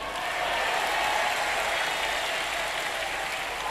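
An audience claps at an Indonesian religious sermon, a steady dense wash of applause holding at an even level for the whole stretch with no voice over it.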